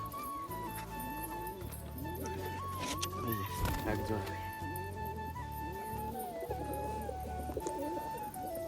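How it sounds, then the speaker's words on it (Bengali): Pigeons, including green ones, cooing in a home loft, repeated soft rolling coos in a steady rhythm close by, with a person talking over them and other bird calls in the background. "এই যে এই যে আরও এক জোড়া সবুজ"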